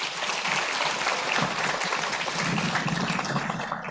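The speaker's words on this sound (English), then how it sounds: "We can clap for them." Audience applause at a school graduation ceremony, a dense, steady clapping from many hands lasting the whole stretch at even loudness.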